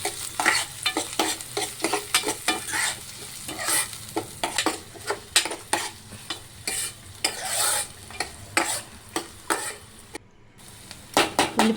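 Onion pieces frying in a pan for a dhaba-style mutter masala curry, a continuous close sizzle with frequent rhythmic spatula scrapes and clinks against the pan, no voices.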